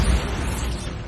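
Bombarda blasting spell detonating in Hogwarts Legacy, a loud, deep explosive burst at the start that settles into a heavy, rumbling roar for about a second.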